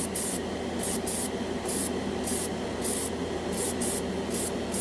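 A cheap Harbor Freight airbrush sprays paint onto a scale model in short, repeated hissing bursts, each about half a second, close and fairly loud, with no talking.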